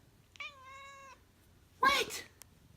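A house cat gives a drawn-out tonal meow, then after a short pause a second, harsher and louder meow, both close and clear against a quiet room.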